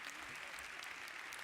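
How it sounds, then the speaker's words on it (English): An audience applauds the culinary team at an EARTHtalks event, a steady wash of clapping from a full room for a short burst. "I would like to ask you for a big round of applause for our culinary team, Sasha and Britta Azanovic."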